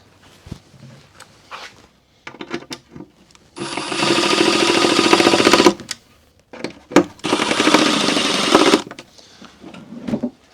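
A power driver sends screws into a part of a SawStop Jobsite Pro outfeed workbench, with two sustained whirring runs of about two seconds each, framed by short bursts and handling knocks.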